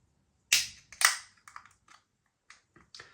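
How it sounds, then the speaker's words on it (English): A can of Bini Helles lager is cracked open with two sharp, hissing pops close by. Softer clinks and splashes follow as it is poured into a glass, with no talking. "Little bit of smoke on the can opening. Beer in the glass."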